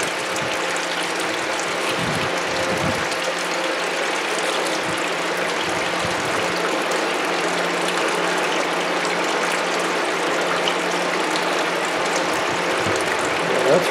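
A Royal Miller gold shaking table runs steadily with a dense mechanical rattle and ratcheting over a constant wash of flowing water, close and even throughout with no talk.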